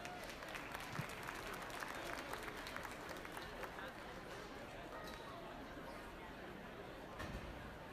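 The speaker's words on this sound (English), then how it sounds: "Let's give them all a big round of applause." Audience applause rings out in a livestock show arena at a junior market swine show, a steady wash of clapping running the whole time with crowd noise and faint talk mixed in.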